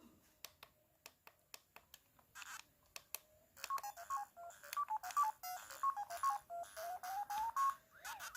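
Ms. Pac-Man game sounds from a small arcade handheld: thin electronic blips and clicks, sparse at first, then a busy run of rapid chirping tones and warbles, moderately loud with no talk.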